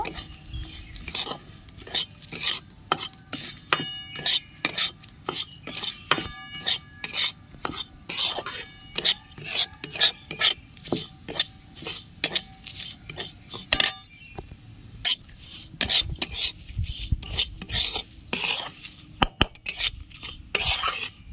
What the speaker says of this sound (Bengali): ভালো করে একটু সুজিটা ভেজে নেব